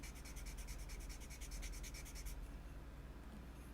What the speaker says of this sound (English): Do a little bit of finish sanding here.